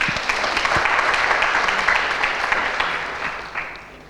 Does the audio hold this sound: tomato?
no